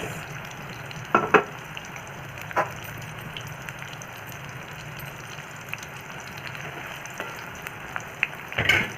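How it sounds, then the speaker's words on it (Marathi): Raw banana pieces fry in hot oil with a soft, continuous sizzle, broken by a few louder crackles and spatters and a final burst near the end. "तेल आता छान तापलेलं आहे याच्यामध्ये केळांचे तुकडे फ्राय करून घ्यायचे"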